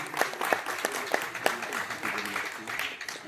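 Audience applause at a mushaira and kavi sammelan poetry recital at IIT Delhi, a burst of close claps at the start that thins into scattered clapping while someone speaks over it.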